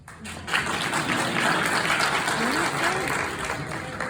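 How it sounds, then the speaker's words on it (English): An audience at a development debate applauds a board, dense loud clapping starting abruptly and continuing steadily, with some crowd voices mixed in. "you'll excuse me for asking everyone to applaud you"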